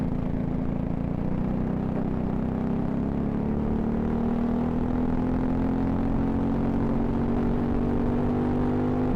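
A 206 racing kart engine screams steadily at high revs during a senior final race, its whine climbing slowly in pitch, loud and close throughout with no talk.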